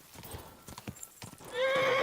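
Horse hooves clip-clopping at a gallop in a video game, followed by a loud neigh, heard alongside game effects and background noise.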